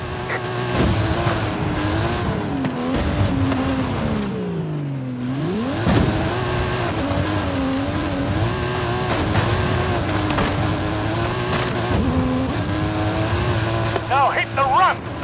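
A custom stunt car with a tuned engine and suspension accelerates hard up a hill in Forza Horizon 5, its loud engine droning steadily, pitch dipping briefly mid-run and then climbing again, with a voice speaking over it.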